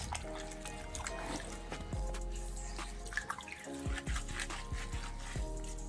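Sea moss being washed by hand in water in a kitchen, with continuous splashing, sloshing and trickling, soft and close, with faint drips and a few handling knocks.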